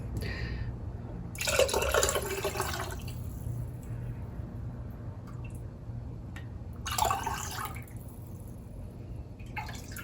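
Beef broth pours into canning jars in two short, faint bursts of splashing liquid over a low background hum.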